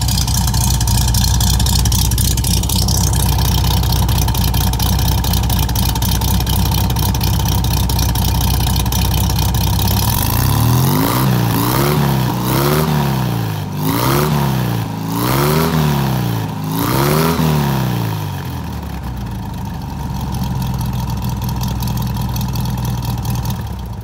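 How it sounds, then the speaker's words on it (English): A restored 1964 Volkswagen Beetle engine with dual exhaust idles loudly up close, then revs four times in rising and falling surges before settling back to a steady idle. "Nice tone from the dual exhaust."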